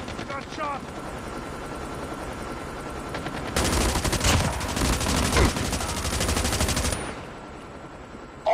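A Chopper LMG fires in a Domination match on the Raid map, a loud sustained burst of rapid automatic gunfire over a droning game backdrop, with game voices heard around it.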